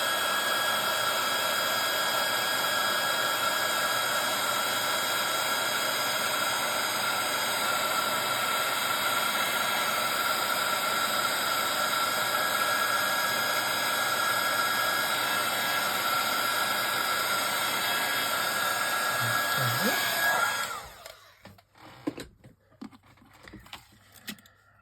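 A heat tool for stencilling blows on a higher heat setting with a constant, close, hissing rush of air for about twenty seconds, then switches off, leaving faint handling noises.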